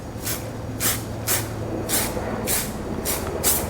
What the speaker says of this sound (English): it's a good practice to also spray a protective layer, whatever wax you use, whatever protectant you use